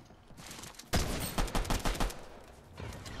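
Pistol gunfire in Fortnite, a rapid string of sharp close shots following a single loud crack, with quieter game sounds before and after.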